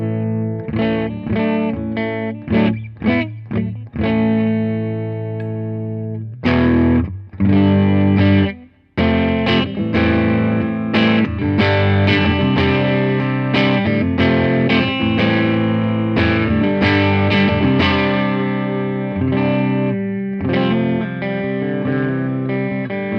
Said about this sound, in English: Let's turn the boost off and go back to some cleaner tones.